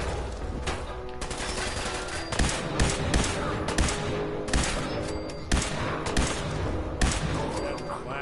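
Repeated bursts of gunfire from Fallout 4, a series of loud, punchy shots fired in uneven rapid clusters across the whole stretch, with game ambience filling the gaps.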